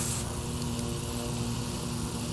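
Steady propeller drone of an Extra 330 aerobatic plane engine in the X-Plane 11 flight simulator, a constant, fairly loud in-cockpit hum running throughout with no talk.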